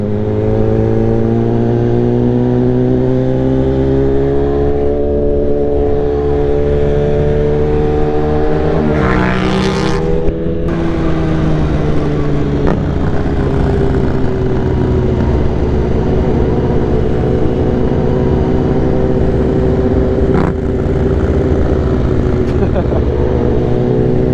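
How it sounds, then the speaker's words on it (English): Motorbikes arriving at an evening bike meet in misty St Ives, heard from a superbike rider's position: a continuous loud engine drone with shifting revs and passing machines throughout, with people talking over it. "As we leave, all the bikes turn up."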